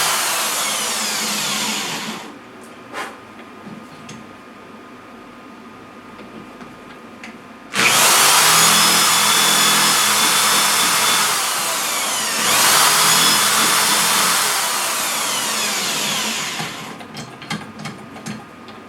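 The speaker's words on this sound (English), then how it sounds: "this drill is actually a high power drill" A high-power drill boring into a wooden turning blank, loud whirring bursts separated by a quieter pause, the motor running hard for a few seconds at a time before winding down, with no talking.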